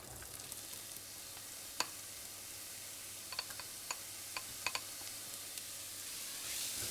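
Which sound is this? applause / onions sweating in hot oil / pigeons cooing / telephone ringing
onions sweating in hot oil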